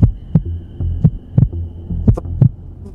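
A heartbeat sound effect thumps in steady double beats, roughly two per second, deep and close over a faint low hum, with nothing else heard.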